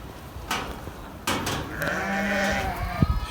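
Sheep and lambs bleat inside a new barn, several calls rising one after another at close range, including a long sustained bleat and sharper short cries, with soft rustling and thuds between them.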